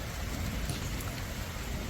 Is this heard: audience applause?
no